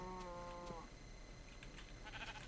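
A Minecraft sheep gives a single short harmonic bleat at the start, followed by faint game ambience and small clicks, quiet overall.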